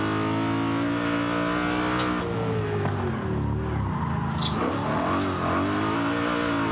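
A twin-turbo BMW E92 M3 tuned to about 750 horsepower revs hard in the racing game Forza Horizon 5. The engine note climbs and drops through several shifts, loud and close, with a brief chirp midway.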